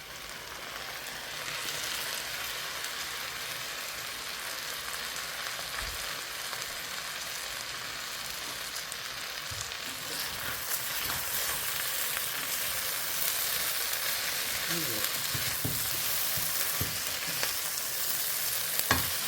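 Potatoes stir-fried with plenty of onion in a pan give a steady sizzle for the whole stretch, with scraping and stirring noises growing busier toward the end.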